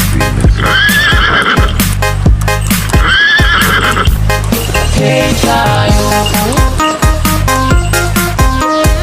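Horse neighs and rhythmic clip-clopping of hooves pulling a delman cart ring out loudly and repeatedly, woven into a continuous, bright musical backing.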